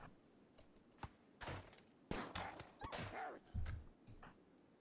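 Gunfire from colonists in RimWorld: several sharp shots and short bursts in uneven succession at moderate level, with quiet gaps between.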